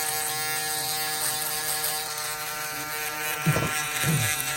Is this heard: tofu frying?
no